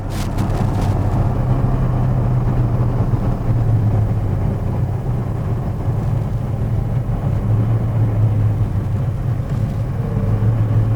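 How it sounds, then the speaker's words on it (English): A 1966 Chevrolet Chevelle SS396 big-block with a 4-speed rumbling under way, a deep steady exhaust drone with slight rises in pitch, loud and close with no talking. "Listen to that exhaust."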